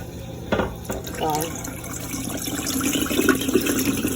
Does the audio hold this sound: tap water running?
yes